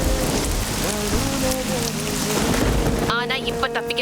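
Steady heavy rain pours down in a dense continuous hiss, with a soft musical tone and a faint voice underneath before the texture shifts near the end.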